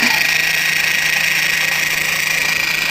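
An Arrma Granite RC car's brushed motor running on a stock NiMH battery during brush break-in: a steady, high electric whine with a faint hum underneath, loud and close, holding even for the few seconds.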